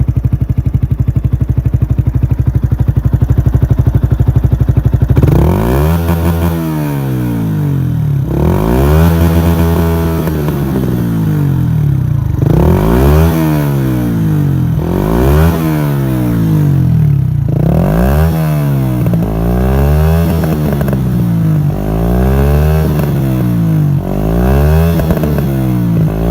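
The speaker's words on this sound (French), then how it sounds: "à peu près le son entre guillemets sur cette catégorie de machine là, donc petit 125 4 temps." A Yamaha YZF-R125, a small 125cc four-stroke motorcycle, idles loudly up close, then its engine is revved repeatedly in rising and falling sweeps, each rev climbing and dropping in a steady rhythm.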